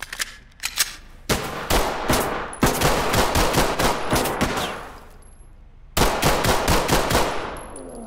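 Gunfire in Ready or Not: loud rapid bursts of automatic fire in several volleys, separated by brief pauses, close and sharp with echoing tails and no talking.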